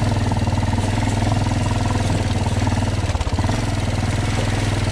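A Kawasaki KLF 300C Bayou ATV engine with a non-original carburetor putters steadily up close at full throttle, its rough, throbbing drone holding nearly even throughout with a brief hitch partway through.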